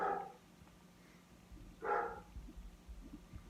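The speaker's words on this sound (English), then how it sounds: "Hopefully you hear my dog barking." A dog barks twice indoors, a short sharp bark at the start and another a couple of seconds later, fairly distant and faint over a quiet room.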